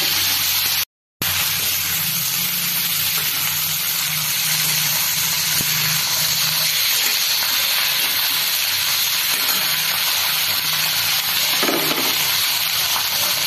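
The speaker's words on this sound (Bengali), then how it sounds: "এবার দিয়ে দেবো এই পেঁয়াজকলি। পেঁয়াজকলিটা ভেজে তো একটুখানি হয়ে যাবে।" Chopped spring onions fry in a pan with a continuous hissing sizzle, steady and close, broken by a brief dropout near the start and a faint stir or clink later on.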